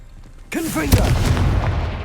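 Confringo spell blast in the Hogwarts Legacy video game: a voice calls out just before a single close, sharp boom, which is followed by a crackling, rumbling tail.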